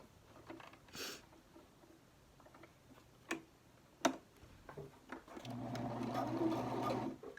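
Soft ticks and handling clicks give way near the end to a brief, steady run of a sewing machine stitching pleats on a face mask, close by and fairly quiet.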